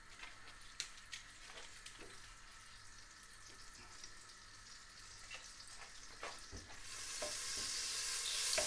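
Butter melting and sizzling in an oiled pan, a steady soft fizz with a few stirring clicks, rising to a louder hissing sizzle near the end; no one talks.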